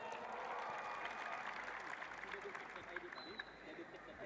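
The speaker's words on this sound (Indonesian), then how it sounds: "Tepuk tangan untuk jurnalis Indonesia." An Indonesian audience applauds journalists at a labor event, giving a steady crowd clap that continues for several seconds with a murmur of voices beneath it.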